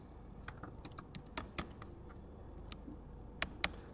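Keys clatter on a computer keyboard as a password is typed into an Ubuntu terminal, a quiet irregular run of close clicks with a few louder taps near the end, no talking.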